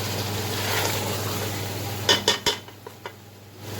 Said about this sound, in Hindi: इन्हें डालकर हमने अच्छी तरह से मिक्स कर लेना है